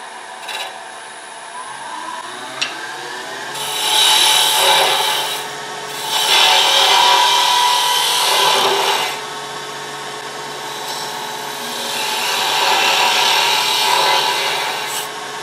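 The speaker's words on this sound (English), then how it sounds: "And we'll do that with the bowl gouge." Bowl gouge cutting a curve on a wooden mortar and pestle spinning on a lathe, giving steady scraping, rasping passes that swell and fade in three long bursts over a constant motor hum, with no talk.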